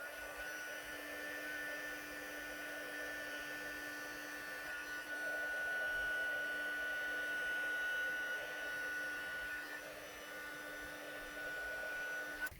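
A heat gun melts gold embossing powder on a card panel, giving a steady, even blowing whoosh with a faint constant whine, running uninterrupted for the whole stretch and swelling slightly midway.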